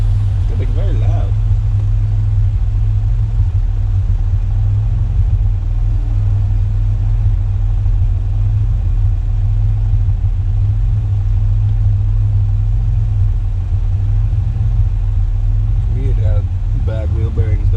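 Car driving with a worn, grinding wheel bearing, a loud constant low rumble and droning hum throughout, with people talking briefly over it near the start and end.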